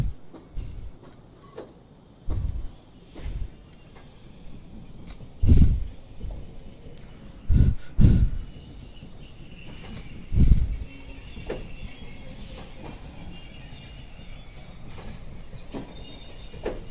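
An old 1950s British Rail Class 506 electric train rumbles along, faulty, with intermittent loud wheel squeals and clunks, metallic screeches rising and fading over a steady mechanical drone.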